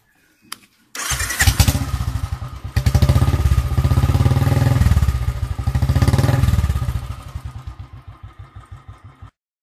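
A Royal Enfield motorcycle fitted with a Punjabi short bottle exhaust starts up and revs, its loud, thumping single-cylinder beat swelling and dropping through throttle blips before settling back toward a steady idle, with no voices.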